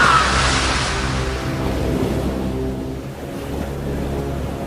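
Stormy sea with rolling waves and surf, a steady loud broadband roar that surges near the start and then holds as a continuous churning wash of water.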